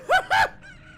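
Two loud squawking fowl calls in quick succession from chickens in an Ocarina of Time rom hack game, followed by a fainter trailing cluck, with no talking.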